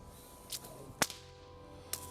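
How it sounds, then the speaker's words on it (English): Sharp, loud whip cracks sound three times at uneven intervals, with the middle crack the strongest, each one a brief snap against a quiet, faintly humming background. "You see a very, very easy motion like this, and you have a very loud crack, very sharp."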